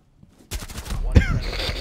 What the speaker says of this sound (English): I got him! I headshot Blackbeard!